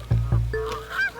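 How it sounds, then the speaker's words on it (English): Canada geese honk as they take off near a beach with sand dunes. Two loud, low honks come close together, followed by a higher, fading call. "And off go the Canada geese."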